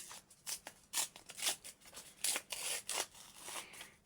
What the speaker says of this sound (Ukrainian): Ось такий пакетик, який ми зараз відкриємо